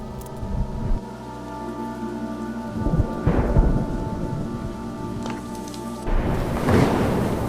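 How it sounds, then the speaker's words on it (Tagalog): Heavy rain pours down steadily at night over EDSA in Manila while rumbles of thunder roll in and out, one deep boom swelling near the middle and another near the end. "walang tigil ang pagbuhos ng malakas na ulan"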